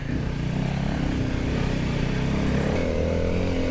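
A Honda CRF250L dirt bike doing slow trials riding on a forest trail in Wingello State Forest, engine chugging steadily at low revs, close and continuous with a slight rise in pitch toward the end.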